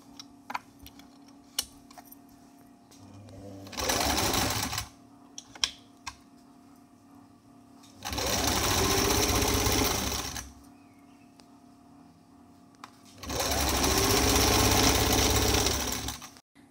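Sewing machine stitching seams on a front-open designer jacket, running in three bursts of rapid mechanical whirring, near and loud, separated by quiet pauses with small clicks and handling taps.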